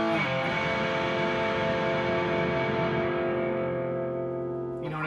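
A loud electric guitar through a Blackstar amp rings out as one sustained, distorted chord that slowly fades, with a brief new attack right at the end.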